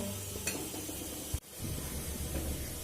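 Spice paste being sautéed in a pan for a pointed gourd and prawn dish, a steady soft sizzle with light scraping and one brief clunk midway, close and continuous.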